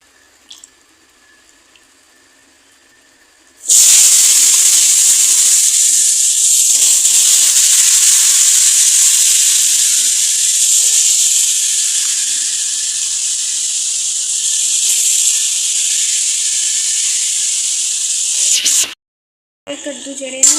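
Washed pumpkin pieces tipped into hot spiced oil in a pan for an ambal curry, starting a loud, steady sizzling hiss after a quiet start and running for about fifteen seconds before cutting off, with a brief clatter at the end.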